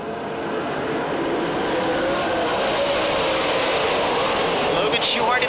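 World of Outlaws sprint cars race on the Stockton dirt track, a dense, steady engine roar from several cars at once, loud and continuous for several seconds with no clear passes or pauses.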